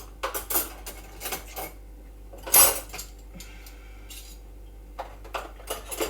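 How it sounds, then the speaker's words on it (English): Dishes put away in a kitchen: a string of clinks and clatters of plates and cutlery, with one loud crash of stacked pieces partway through, close and without talk. "I'm going to put all these dishes away"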